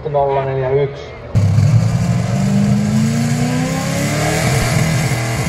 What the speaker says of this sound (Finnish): Tony Stoll sähkösinisellä Chevrolet Camaralla. Mukavan suoraan se menee.